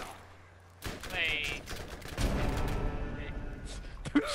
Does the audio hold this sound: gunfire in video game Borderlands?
yes